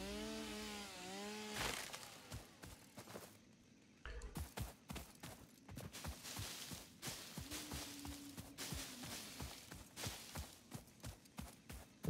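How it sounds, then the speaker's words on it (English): A chainsaw cutting trees in the video game Satisfactory, a rapid series of sharp, crackling chops and buzzy bursts, fairly quiet, following a brief rising tonal game sound at the start. "And the chainsaw does have a mode now that you can select one thing at a time."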